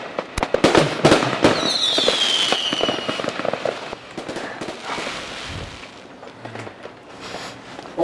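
Firecrackers burst outside during a celebration, a rapid string of sharp cracks and pops, dense at first and thinning out, heard from some distance with crackling tails.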